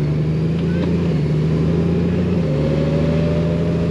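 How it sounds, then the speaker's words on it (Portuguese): Motorcycles riding past at a Honda Goldwing rally in Luxembourg, a loud, continuous engine drone close by that holds steady throughout. "Muito pessoal também a passear de moto"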